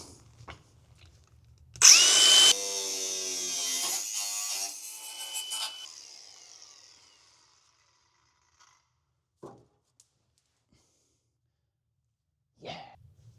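A power tool cuts through a hollow exhaust hanger under a Supercharged Mini in one loud, whining burst of about four seconds that fades out. A few faint knocks follow in a quiet space.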